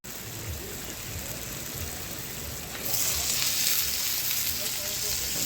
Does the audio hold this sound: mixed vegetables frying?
yes